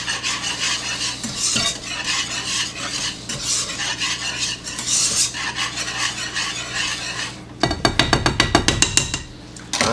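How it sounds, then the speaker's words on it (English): A spatula scrapes and stirs through a pot of beer cheese dip with Worcestershire sauce, a steady wet rasping close up that turns to sharper rhythmic clinks and knocks near the end, with no talking. "2 tablespoons of Worcestershire sauce. Stir to combine."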